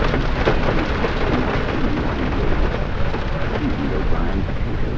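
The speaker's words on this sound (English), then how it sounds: "With the rain falling as hard as it is, the ice is bound to accumulate quickly." Heavy rain falls hard and steadily as a dense, constant hiss and patter of large drops, loud and unbroken throughout.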